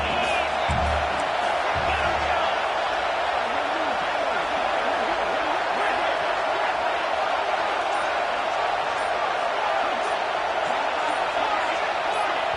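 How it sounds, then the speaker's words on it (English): Stadium crowd at an Auburn vs Tennessee college football game, a dense, sustained roar filling the whole stretch without letting up, loud and near, with commentators talking over it. "with this place rocking, the crowd forces a false start"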